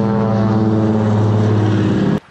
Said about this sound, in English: Check this plane out.